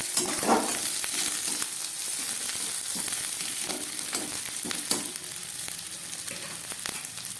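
Onion, garlic and green chilli frying in a pan for a taro leaf dish, producing a continuous crackling sizzle with periodic stirring scrapes throughout.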